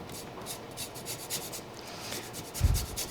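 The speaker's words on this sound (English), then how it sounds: "So I like to put in a little bit of lemon zest." Lemon zest grated for ricotta pancakes: a soft, rhythmic rasping of rind across a grater, close and quiet, ending in a light knock.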